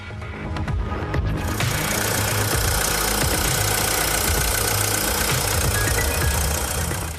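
An Opel car engine, from a maker based in Rüsselsheim, Germany, runs steadily at a loud, close idle with a dense, even rumble and a faint knocking texture, uninterrupted throughout.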